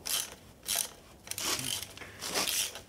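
A bolt-type puller slowly pressing the harmonic balancer off a Ford FE 390 engine, giving a few separate bursts of metallic ratcheting and grinding with short quiet gaps between them, close and fairly loud.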